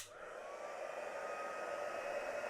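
A hair dryer blows steadily over a wet watercolor pumpkin painting, a constant whooshing hum with a faint whine, close and alone after a brief click at the start.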